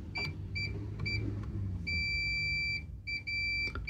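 A multimeter beeps on continuity checks along circuit board traces of a Japanese PC Engine Duo-R home arcade console, giving short repeated bleeps and a longer sustained tone over a faint background hum, close and clear.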